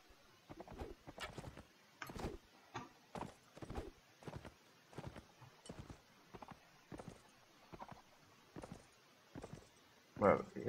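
Horse hooves clip-clopping at a steady walking pace in the video game Mount & Blade Warband, a regular train of distinct hoof strikes, fairly close, with a louder thump at the end.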